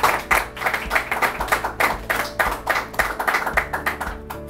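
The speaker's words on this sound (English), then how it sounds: "Come on, we should give a better round of applause than that." A small audience at a press conference on a television donation claps in a modest, uneven round, with loud individual claps close by and a low hum underneath.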